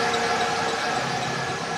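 A car engine idling with the motor running, a steady close rumble with a constant hum and no talk.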